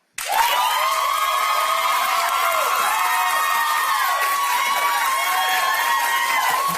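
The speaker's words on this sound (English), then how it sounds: "I want applause for Star." A television talk-show studio audience bursts into loud, sustained applause and cheering, with whoops and shrill shouts riding over dense clapping that holds steady for several seconds.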